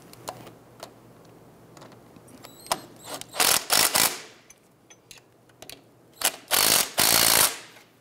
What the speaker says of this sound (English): Let's go ahead and tighten these down.